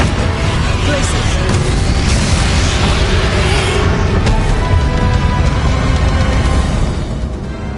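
The Glacius spell is cast in Hogwarts Legacy amid loud, dense battle noise, with booming bursts and a sharp crackling swell that fades near the end.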